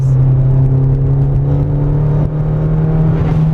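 2003 Mazdaspeed Protege engine idling steadily up close, a loud continuous low hum with a faint whir and no voices over it.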